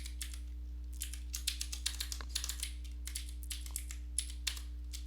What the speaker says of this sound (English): Typing is very hard, apparently.